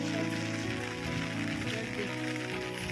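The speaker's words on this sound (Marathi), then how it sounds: "पण ह्यावेळी आताच आलाय पाऊस." Rain falls steadily during an evening walk outdoors, a soft continuous patter mixed with faint background tones.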